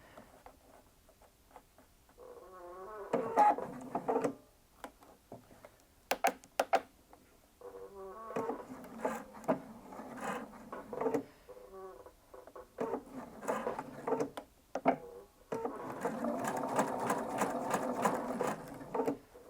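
A sewing machine stitches down quilt binding in several separate bursts of varying length, close and clear, with short pauses between runs.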